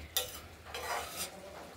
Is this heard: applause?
no